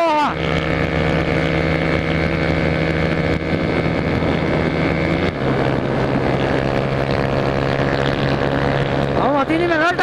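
Small motorcycle revving hard on a loose dirt trail through the brush, its engine drone steady and loud with a pitch shift partway through, as people talk over it.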